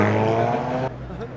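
At a chaotic car meet, a car engine roars loudly up close, then cuts off abruptly into quieter engine rumble and a brief high squeal, with people talking over it.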